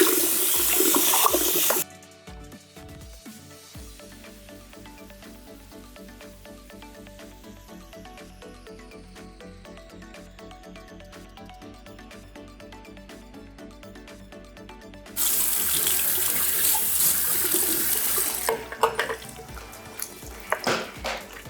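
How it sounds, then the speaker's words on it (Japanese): Hot water runs steadily from a tap into a salon shampoo basin, a continuous rushing stream that fills the basin, with brief louder splashing at the start and end. "シャンプー台にちょっとお湯をためていただいて"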